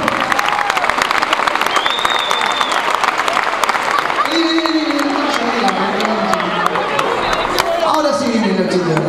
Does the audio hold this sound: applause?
yes